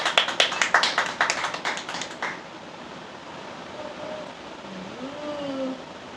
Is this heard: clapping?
yes